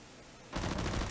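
Combine soldiers' SMG gunfire in a F.E.A.R.-style combat level of a first-person shooter, a dense burst of rapid shots that starts midway and holds at a steady, fairly loud level to the end.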